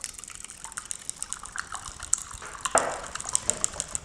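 One large egg poured into a jug holding 60 grams of golden syrup for gingerbread biscuits, then beaten together, giving continuous close liquid splashing and wet clinking with a sharper slosh partway through.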